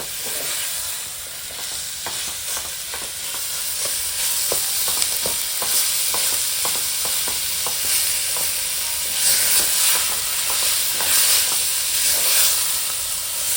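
Tender young jackfruit pieces stir-frying in a hot pan after a spiced tempering, with a loud continuous sizzle and repeated scraping strokes of a spatula in an uneven rhythm.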